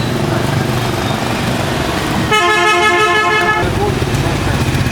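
A car horn blares in a steady honk lasting about a second and a half, close by, over continuous road and engine noise.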